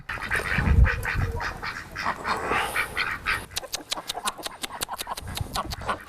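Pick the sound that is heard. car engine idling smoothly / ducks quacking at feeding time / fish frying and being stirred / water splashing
ducks quacking at feeding time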